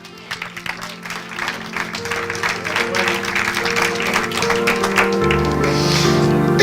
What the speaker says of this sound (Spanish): yo estuviese dándole un aplauso al Señor allá atrás